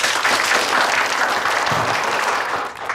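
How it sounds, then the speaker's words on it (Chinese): A seated audience gives warm applause to welcome a renowned economist to the podium, many hands clapping in a loud, continuous wash that eases off slightly at the end. "现在，让我们用热烈掌声欢迎他发言"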